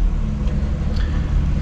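A stage 2+ tuned BMW M140i drives along, its engine giving a low steady rumbling drone heard from inside the car, fairly loud and without talk.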